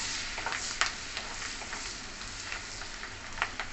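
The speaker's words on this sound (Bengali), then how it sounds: "তারপর দিয়ে দিচ্ছি রসুন, দিয়ে একটু নাড়াচাড়া করে নিই।" Garlic sizzles in a pan alongside onion and ginger, with a continuous low frying hiss broken by several brief spatula scrapes and taps as it is stirred.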